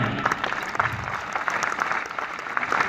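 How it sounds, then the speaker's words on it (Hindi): An audience at a Kumar Vishwas poetry recital in Haryana claps steadily throughout, a dense, even patter of many hands with no voices standing out. "तालियां बजाओ यहां पे"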